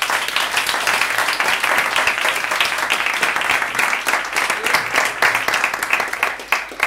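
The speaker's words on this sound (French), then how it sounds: "on peut vraiment les applaudir pour voir leur présentation" A crowd at a coding bootcamp demo day applauds the presenters, with dense clapping that swells and pulses unevenly and continues strongly throughout.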